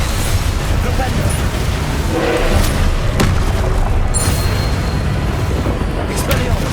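The Flipendo spell fires during combat in the Hogwarts Legacy video game, a dense burst of booming impacts and crackling effects amid constant action noise.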